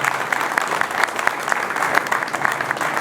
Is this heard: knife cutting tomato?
no